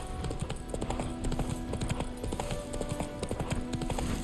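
Rhythmic clip-clop of a galloping horse's hooves in The Witcher 3, steady and close over a dense game soundscape with no talking.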